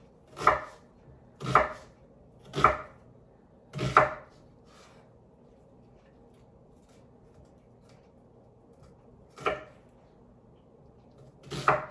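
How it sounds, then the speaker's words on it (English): A knife slices through an onion on a cutting board in sharp distinct chops, four evenly spaced cuts, a pause, then two more, each a crisp close thunk against a quiet background. "as I'm slicing this onion up"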